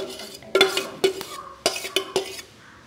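Chopped onions for a vegetable salad drop into a bowl in several close, distinct clattering knocks, a few quick hits spaced over about two seconds.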